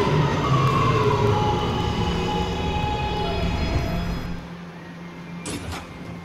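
A Roblox PTA R line local subway train, R211A, rolling along with a loud, steady rumble and rail hum. It eases toward the end, with a short high hiss or chime close to the finish and no speech.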